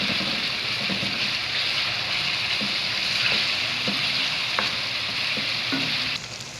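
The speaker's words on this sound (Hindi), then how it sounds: "मैरिनेट हुई हुई चिकन डालेंगे। इसको 3 से 4 मिनट पका लेंगे।" Marinated chicken fries in a hot pan as spaghetti sauce gets under way, giving a steady, loud sizzle with light stirring scrapes and occasional clicks throughout, no talking over it.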